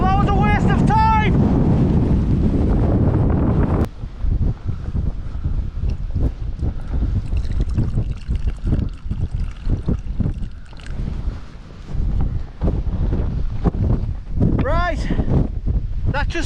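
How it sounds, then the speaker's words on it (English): Strong, gusting wind buffets the microphone on an exposed Lake District fell summit near Sallows, roaring continuously and close, while someone talks over it. "The wind is still atrocious"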